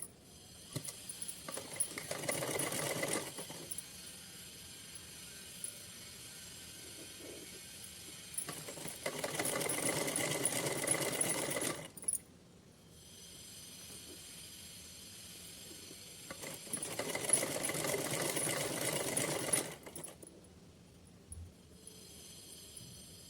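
A sewing machine stitches a thin, twice-folded strip of fabric for a Kanha ji outfit, running in four bursts of steady whirring a few seconds each, with quieter pauses and faint handling in between, fairly soft and close.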